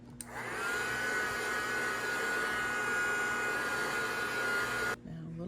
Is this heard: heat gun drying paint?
yes